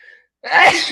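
One sharp, close sneeze erupts suddenly after a brief faint sound, loud and explosive, then trails off in a breathy tail.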